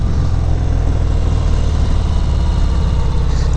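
A 2019 Harley-Davidson FXDR 114 motorcycle rumbling steadily while being ridden, loud, deep and continuous, with a constant low throb and wind-like broadband noise throughout.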